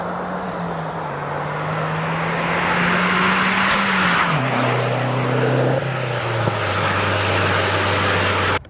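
A tuned Mazdaspeed 3 running 22 psi of boost on a stage 2 setup accelerates through the gears, a loud continuous engine drone that drops in pitch at each shift, with faint pops at the changes.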